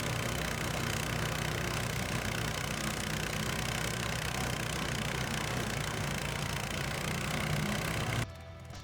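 A Tofalar Tundra snow vehicle's engine runs under throttle, giving a dense, steady roar close to the microphone that cuts off abruptly near the end.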